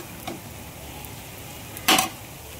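Vegetables with onion and curry leaves fry in a pan under a low steady sizzle, with a faint scrape early on and one louder burst of stirring near the end.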